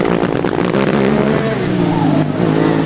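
A Formula Student race car from the Coburg team threads through a slalom during an endurance event, its engine note climbing and dropping in quick bursts as it flicks between cones, loud and close throughout.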